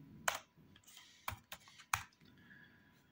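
Quick bursts of keystrokes on a computer keyboard, with sharp clicks in an uneven rhythm and short pauses between words. Close and fairly quiet, with no talking.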